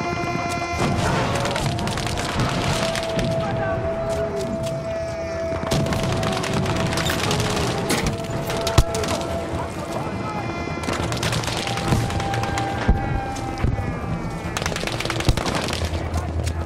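Gunfire and artillery cannon blasts boom in the Battlefield V video game, a dense run of rapid machine-gun bursts and heavy shots going on without pause, loud and close, with game tones and voices mixed in.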